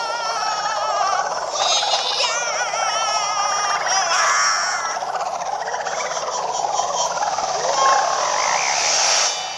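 Game frog from Super Mario Odyssey croaking and warbling in bursts over bright music and effects, loud and continuous throughout, no speech.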